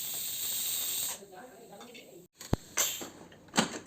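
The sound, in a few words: pressure cooker releasing steam after cooking chickpeas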